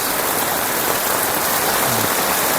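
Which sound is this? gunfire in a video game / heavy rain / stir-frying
heavy rain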